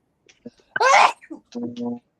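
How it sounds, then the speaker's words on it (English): A single loud, abrupt sneeze bursts out close by, followed by a brief voiced sound afterward. "Talk about scary sneezes."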